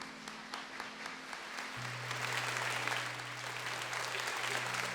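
Church congregation applauding to welcome a priest during an evening worship service. The clapping swells in about two seconds in, then holds as a steady, dense ovation filling the room.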